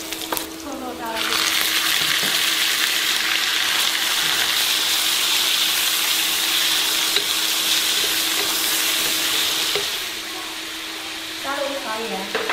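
Pork sizzles loudly in a hot wok with garlic and oil, a continuous hissing fry with occasional stirring scrapes that swells when the meat goes in and eases slightly toward the end.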